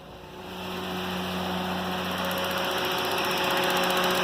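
Steady idle of a Honda Insight with a swapped K24 engine, swelling up in the first second, then holding a constant droning hum with low harmonic tones throughout.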